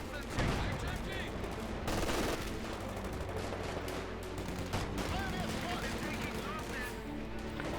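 Heavy fighting in Company of Heroes 2, with bursts of gunfire, machine-gun rattle and booming artillery blasts layered over each other, moderately loud, with a voice talking over the combat.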